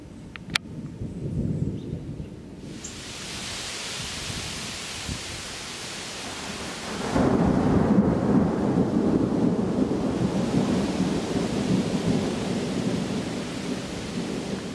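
A thunderstorm rages outdoors: a sharp crack of thunder opens, then steady rain hisses before a heavier downpour with low rumbling swells in and continues loud and unbroken.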